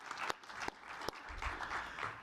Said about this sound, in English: please join me with thanking a round of applause to the panelists